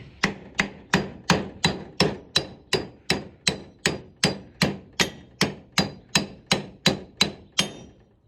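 Hammer tapping a rusted leaf spring pack, about twenty sharp metallic strikes in an even, steady rhythm, each ringing briefly before the next, close and alone without talk.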